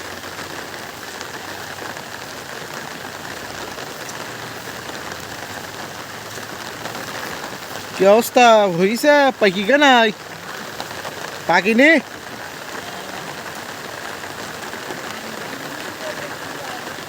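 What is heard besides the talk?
heavy rain falling on a village field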